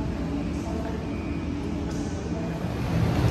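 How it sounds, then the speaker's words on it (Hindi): Interior of a Dubai Metro train during a ride, a continuous low rumble of the moving carriage with a faint steady whine, growing slightly louder near the end. "दुबई दोस्तों, ये है दुबई मेट्रो और ये अभी हमें ले जाएगी इमिग्रेशन तक।"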